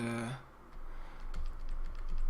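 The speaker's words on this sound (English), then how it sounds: "So you can press on the minus and plus sign on the keyboard" Keys on a computer keyboard, the plus and minus keys, are pressed in a few soft, quick taps after a brief bit of voice at the start.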